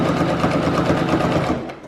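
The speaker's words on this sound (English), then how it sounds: "we're going to stitch up this side, remembering to leave this gap here." A sewing machine stitching up the side seam of a fabric drawstring bag, a continuous close, fast mechanical whirring that runs steadily and eases off at the very end.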